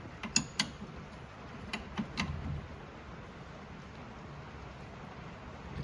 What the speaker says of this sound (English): You'll continue to tighten it, and it'll kind of suck it in